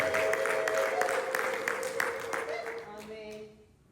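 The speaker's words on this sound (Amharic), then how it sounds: "እልልታ ጭብጨባ ለእሱ ይምጣለት።" A church congregation ululates and claps together through a Sunday morning service, with a steady wash of applause and high trilling voices that fade out near the end.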